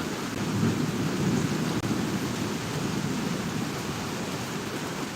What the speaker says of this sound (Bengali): মেঘের গর্জনও শোনা যাচ্ছে এবং হালকা বাতাসও হয়েছে